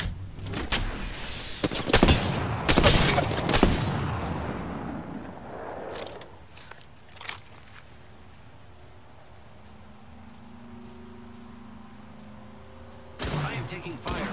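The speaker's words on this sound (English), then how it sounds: "I am taking fire, friends." Rapid bursts of gunfire in the battle royale shooter Apex Legends crack out in clustered volleys during the opening seconds, followed by quieter game ambience and another sharp burst near the end; speech-like game audio mixes in.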